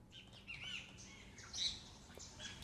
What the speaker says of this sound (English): we have another one here that is just a simple bird ambience